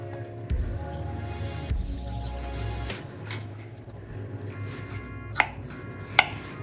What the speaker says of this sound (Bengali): আলু কাটছি